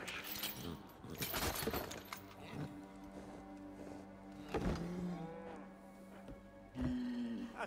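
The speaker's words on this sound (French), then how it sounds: "Vache." A low, drawn-out moo of a cow in the video game Assassin's Creed Origins rises twice amid clattering and scraping sounds, with a brief tonal squeal near the end.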